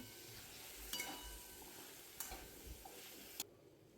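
Pumpkin pieces are stirred in a kadhai for a Maharashtrian pumpkin sabzi. A spoon gives a few soft scraping strokes against the pan over a faint, quiet sizzle.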